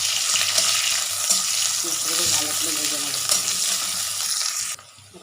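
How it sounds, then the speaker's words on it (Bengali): Steady sizzling of onions frying in a hot pan, continuous and close, with faint clinks of stirring partway through before it cuts off. "পেঁয়াজটাকে আগে ভেজে নেবো দেখো"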